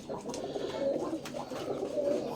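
Pigeons coo continuously at close range in an indoor loft, several birds calling and overlapping in a steady low warble with brief louder bursts.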